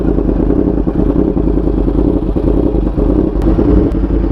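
An R1 sport motorcycle engine runs loud and steady on a test ride with a dense, rumbling drone and faint rattling, close to the microphone throughout.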